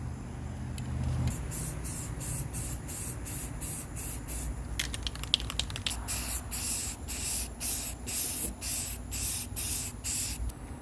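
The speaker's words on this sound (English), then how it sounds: "now we're painting the white over the blue" A spray gun lays white paint over blue on a sanded bed frame in a steady, close hiss, broken into rapid short bursts toward the end, with a low background rumble underneath.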